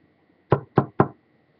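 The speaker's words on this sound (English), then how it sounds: "As I knock on my wooden desk" Three quick, sharp knocks on a wooden desk, evenly spaced and close, in an otherwise quiet room.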